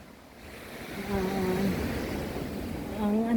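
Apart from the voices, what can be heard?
ocean waves at a coastal site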